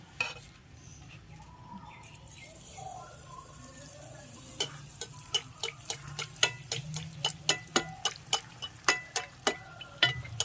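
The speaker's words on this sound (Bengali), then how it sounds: "এরকম করে এক একটা করে আমি ভেজে নেব।" Bengali rice-cake pitha fry one at a time in hot oil, giving a soft continuous sizzle with a growing series of sharp clicks and taps from a utensil against the pan.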